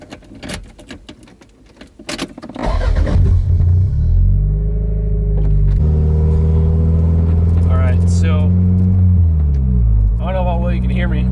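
Early jingles and clatter give way to a Toyota MR2 engine starting, fitted with an aluminum shift bushing. It then rumbles low and steady while driving off on a test drive through a neighborhood, and a person talks over it.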